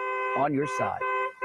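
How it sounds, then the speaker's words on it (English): A car horn holds a steady, buzzing blare throughout, recorded at a live news report in Southwest Chatham County. A person speaks over it for a moment. "he had somebody honk the horn"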